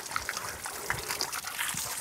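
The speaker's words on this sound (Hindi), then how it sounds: "ये देखिए पहाड़ों में झरना चल रहा है" A small mountain waterfall trickles and splashes steadily nearby, a continuous bright watery babble at moderate loudness.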